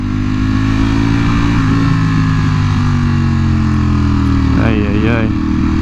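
A Ducati Panigale V4R motorcycle rides through slow traffic, its engine droning steadily up close under wind noise, then revving briefly with rising and falling pitch near the end.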